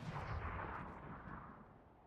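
A mortar fires in a PUBG pro scrim match, a faint, distant boom with a low rolling rumble that slowly decays with no voices.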